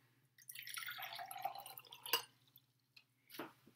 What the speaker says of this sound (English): I'm going to pour that into the 1, 2, 3, 4th glass.